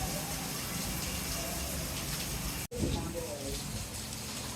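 Heavy rain pours down during a storm in Karachi, a steady dense wash of water with a brief dropout partway through, while voices talk excitedly over it.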